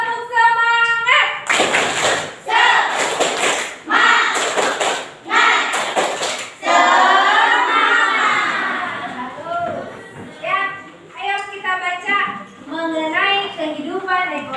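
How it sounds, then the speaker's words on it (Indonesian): A school class performs a tepuk semangat spirit clap, bursts of loud rhythmic group clapping alternating with children chanting and a teacher's voice, followed by classroom talk. "Biar semangat, kita tepuk semangat dulu ya."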